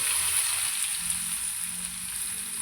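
Chili, curry leaves and onion fry in a hot pan, giving off a steady, close, even sizzle that holds without a break.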